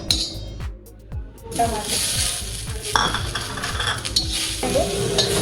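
Ingredients for mutter paneer roast in a pan, a bright sizzle broken by repeated scraping strokes of a utensil and light metallic clinks against the pan, close and busy.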